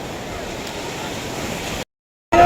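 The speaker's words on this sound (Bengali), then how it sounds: "এত ঢেউ দিচ্ছে" Sea waves at Puri beach roar as a steady, broad wash of surf with wind buffeting the microphone, ending in a sudden cutout of silence.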